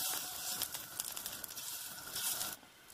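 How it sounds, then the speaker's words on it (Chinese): Ginger stir-frying in hot oil in a wok over medium-high heat for a tomato and potato vegan soup, a steady close sizzle and crackle with no talk. "爆一爆夠姜"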